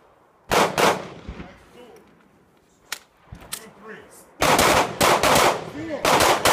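Handguns firing on a tactical handgun training range, sharp loud shot bursts in quick doubles and strings with quieter gaps between, a voice giving commands under the shooting.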